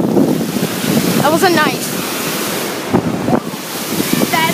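Ocean waves wash in at a beach under heavy wind buffeting the microphone, a loud continuous surf roar with brief voices and a high whine over it.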